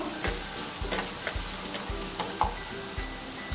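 Onions sauté in a pan for samosa filling with a steady sizzle, while a spoon scrapes and taps the pan at a regular, roughly half-second rhythm, close by and without voices.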